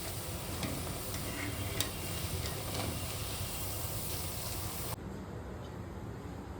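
Moong dal fritters (pesara punukulu) fry in hot oil with a steady, quiet sizzle and faint ticking of stirring, the hiss dropping slightly near the end.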